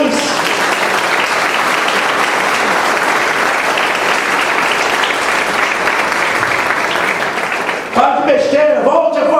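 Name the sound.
congregation applause in church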